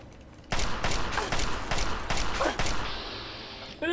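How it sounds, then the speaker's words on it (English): A robot opening fire in Fallout 3, a rapid burst of sharp, loud shots in an uneven rhythm for about two seconds, then a fading ringing tail and a brief metallic sound at the end. "The robot's shooting at us!"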